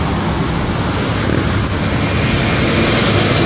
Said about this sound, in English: That was a truck. That was a big truck.